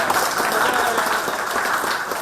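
A crowd at a contract workers' union meeting breaks into loud, dense applause that holds steady throughout, a continuous wash of many hands clapping together.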